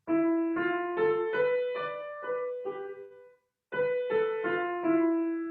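Piano notes of a Japanese scale played one after another in a gentle ascending and descending phrase, a short pause, then the phrase resumes; soft and clear, no voices.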